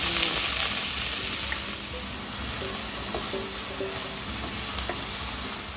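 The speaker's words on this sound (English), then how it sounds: "Heat some oil in a pan and fry the onions." Onions frying in hot oil in a pan for a Goan kingfish sour curry give a loud, close, continuous sizzle that eases slightly after the first couple of seconds, punctuated by a few faint utensil taps.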